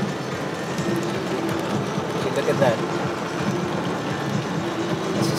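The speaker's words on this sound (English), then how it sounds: "It's raining really hard in Cebu right now, and Philippine rains are known to be really, really crazy." Heavy tropical rain pours down on a car driving through a flooded road in Cebu, Philippines, a steady broadband wash with engine and water rumble throughout, as a voice briefly speaks over it.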